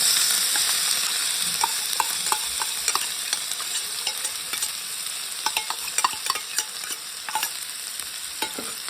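Crushed green chilli, garlic and ginger fry in hot oil, a steady close sizzle broken by frequent small crackles and pops and occasional stirring scrapes, with no talking.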